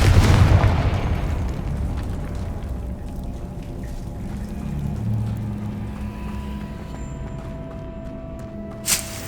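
A fiery blasting-spell explosion in the game Hogwarts Legacy bursts loudly at the start, then a long rumbling decay with low ambient hum and a small pop near the end, no speech.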